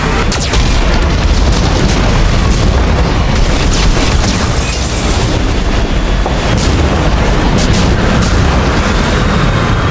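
Heavy, continuous booms and explosions from a Geth cannon in the Mass Effect 2 video game, loud and dense throughout with rumbling blasts layered over one another and no talk.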